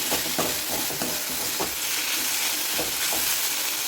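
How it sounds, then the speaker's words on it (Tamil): A spatula stirs mango rice mixture in a hot pan, with repeated scraping strokes over a constant loud sizzle. "இது நல்லா கலந்து விட்டுட்டு நம்ம சாதத்தை கொட்டி கலவிக்கலாம்"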